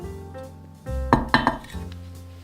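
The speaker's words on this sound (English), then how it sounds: "Start by stirring the water and salt together." A metal spoon knocks and scrapes against a cooking pot while water and salt are stirred together for choux pastry, with a few sharp clinks over a low rumbling background; no one speaks.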